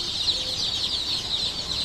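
A dense flock of Sonali chickens at a poultry farm clucks and peeps continuously in a constant overlapping chatter, with no talking.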